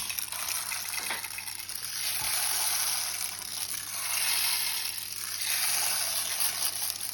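A soft plush hippo toy plays a continuous hissing wash of sea-wave noise that swells and recedes gently, steady and close, with no voices.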